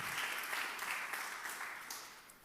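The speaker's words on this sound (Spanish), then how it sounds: "Dele un aplauso fuerte." A church congregation applauding steadily, a dense wash of clapping that holds for a couple of seconds and slowly eases.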